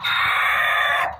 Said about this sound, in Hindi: गोल्डन मुर्गा भी अजान दे रहा है